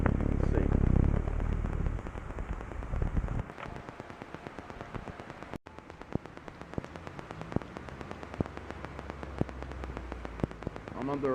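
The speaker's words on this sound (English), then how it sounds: "it's raining so heavy that my umbrella isn't going to do a damn thing" Heavy rain pours down steadily during a flash-flood thunderstorm on Long Island, heard from under a gazebo: a loud, dense hiss of downpour that runs unbroken from start to finish, with scattered sharper drop impacts.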